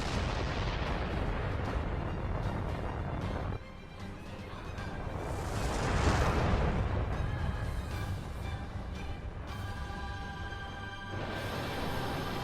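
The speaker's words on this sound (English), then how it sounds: "Missile controls engaged. Launch ability confirmed. Fire!" A missile launch and firing sequence from the video game NieR Automata, a dense roaring rush of explosive blasts with a brief dip partway through, then a swelling burst and continued rumbling fire, loud and sustained with no talk.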